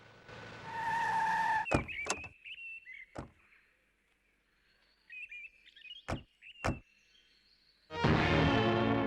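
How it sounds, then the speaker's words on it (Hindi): A car pulls up and stops outside a house, its engine fading out to quiet with a few sharp door-like clunks and faint chirps between, then another engine bursts back in loudly at the end. "गाड़ी बाहर ही रोकता हूँ"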